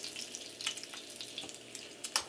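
Bacon strips of uneven fat content frying in a pan, with a soft, steady crackle and sputter broken by brief brighter pops, heard close and fairly quiet with no talking.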